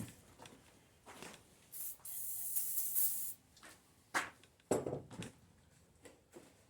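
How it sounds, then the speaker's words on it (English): WD-40 lubricant sprayed from an aerosol can during an LS 5.3 engine swap, a short close hiss lasting about a second and a half, surrounded by faint clicks and handling noises. "I'm going to put a little lube on it. WD-40."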